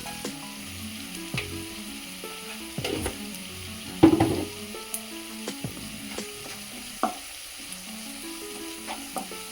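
Sliced cucumber fries in hot oil with turmeric for a tomato curry, crackling and sizzling steadily at close range, with scattered pops and a few clinks of a utensil stirring the pan.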